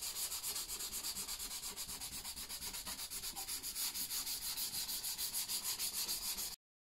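Rhythmic hand sanding with 400-grit paper across a finished wooden keepsake box lid, steady back-and-forth rubbing strokes, close and continuous, with no talking.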